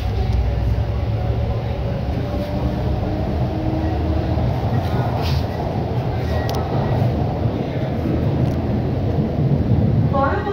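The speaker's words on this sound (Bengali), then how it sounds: "এখন এটা ট্রেনটা এখান থেকে শুরু করছে, ছাড়ছে" A Kolkata Green Line metro train pulls out of a station with a loud, steady low rumble and rattle of wheels on track, heard from inside the car, with a voice faintly talking under it.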